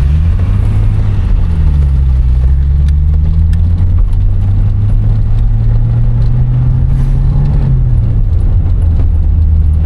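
Turbocharged SR20 engine in a Nissan Sentra heard from inside while driving on city streets, a steady low drone that rises and falls gently with throttle, continuous and fairly loud with no talk over it.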